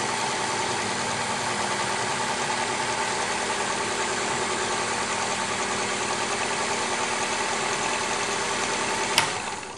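Ink pumps on a FillStation fill a printer cartridge, a steady close mechanical hum and whir running unbroken throughout, with a brief sharp click near the end.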